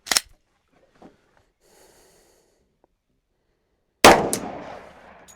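A pistol fires a handloaded 10mm Auto round: one loud, sharp shot breaks a near-silent stretch and leaves a ringing decay, and a brief sharp click is heard at the very start.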